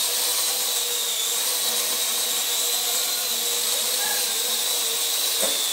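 An AR Drone quadcopter with a faulty rotor whines steadily with a high, buzzing motor hum, continuous and fairly loud throughout, with a faint click near the end and no talking.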